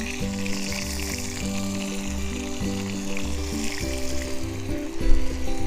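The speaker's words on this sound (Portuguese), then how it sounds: "aqui temos então o primeiro passo, a cebola a refogar bem, juntamente com a própria carne." Onion and meat sautéing together in a pan, a dense continuous sizzle and crackle heard close and alone, with a faint musical tone running underneath throughout.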